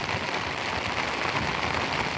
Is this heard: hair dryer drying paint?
no